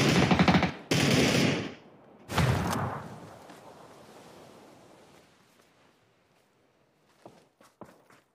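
Gunfire in a PUBG esports tournament match: three loud bursts of rapid automatic fire in the first three seconds, then a fading outdoor ambience with a few faint, sharp distant shots near the end.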